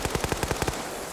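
A rapid burst of about eight gunshots fires in a video game skirmish, evenly spaced automatic fire that is loud and close, then stops abruptly, leaving a short trailing echo.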